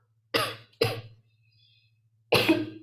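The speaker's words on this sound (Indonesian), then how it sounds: "Sorry ya, saya batuk." Two quick coughs close together, then a pause and a third, heavier cough, from a lecturer during a calculus class, close to the microphone over a low steady hum.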